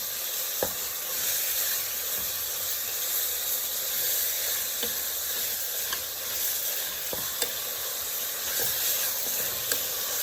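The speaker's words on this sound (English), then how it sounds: "We add in our pork. We're gonna give our pork a nice saute." Pork sautéing in hot canola oil for a green chile stew gives a steady, close sizzle, dotted with occasional sharp clicks and scrapes from stirring, with no voices.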